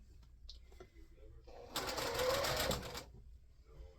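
A sewing machine runs a quilt block seam in a single burst of about a second and a half of steady whirring, with quiet speech before and after.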